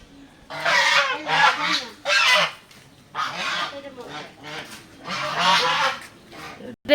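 Loud, harsh honking calls from waterfowl in repeated bursts, close by, with short pauses between, forming a noisy squawking chorus.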